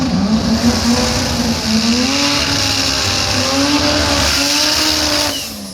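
A rotary-engined race car revs loud and close at Brisbane Jamboree qualifying, its pitch rising and falling through gear changes before fading slightly at the end.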